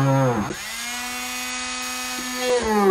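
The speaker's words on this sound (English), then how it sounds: "I'm just going to drill." A power drill whirs steadily at close range with a high, even motor whine, briefly revving up at the start and end, drilling holes for a wire photo holder.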